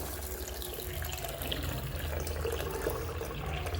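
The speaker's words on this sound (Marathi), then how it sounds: "आता आपण इथे जरा एकदा पाण्याखरून काढूया" Sago pearls rinsed in water in a home kitchen while making sabudana khichdi: a steady trickle and splash of water pouring and sloshing in a vessel, close by and moderately quiet, with no talk.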